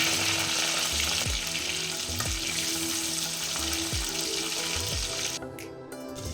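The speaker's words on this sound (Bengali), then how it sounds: "মাছগুলোকে উল্টে দেব। উল্টো দিকটাও ভেজে নেব ঢাকা দিয়ে।" Oil sizzles steadily and loudly as tengra fish fries in a covered pan, with a few soft clunks of a lid or utensil along the way.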